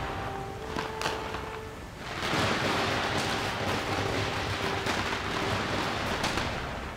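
Dense rumbling blasts and crackling bursts from the video game Metal Gear Solid 3 pile up after a brief calmer start, sustained and loud like distant fireworks, with faint tonal game sounds early on.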